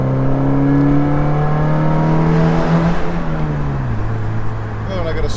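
A car engine fitted with an RPM Motorsports Stage 2 kit accelerates, pitch climbing steadily before dropping at a gear change, loud and close with road noise.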